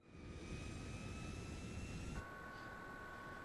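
Video game airplane engine roaring steadily up close, a continuous jet-like drone with a sudden shift in pitch partway through, no talking.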